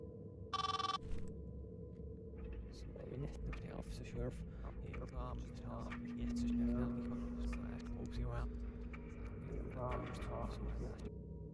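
In the horror video game Last Shift, a phone rings once in a short burst at the start. Low game ambience and rumble follow, and a voice can be heard.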